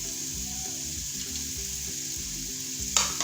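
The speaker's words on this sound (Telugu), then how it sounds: "వీటిలో చక్కగా వేగే వరకు వేయించుకుందాము." Onions, ginger-garlic paste, almonds and cashews fry in a pan with a constant close sizzle under soft background music, swelling briefly louder near the end as they are stirred.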